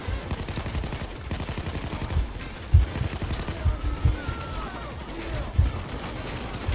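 Gunfire in the video game PayDay 2: rapid automatic bursts rattle early on, then scattered heavier shots punch through a busy game backdrop at moderate loudness.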